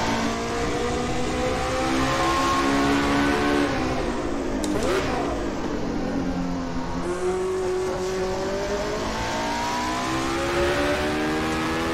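A Rondeau M379C race car engine at Le Mans in rFactor 2 drones loud and steady, pitch sagging under braking then climbing again as it accelerates, with a brief sharp burst midway.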